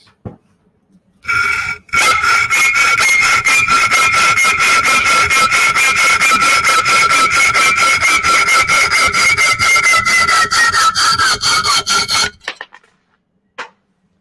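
A hacksaw rasps back and forth through metal held high in a vise, in fast, even strokes, loud and close, grinding on for about ten seconds before stopping.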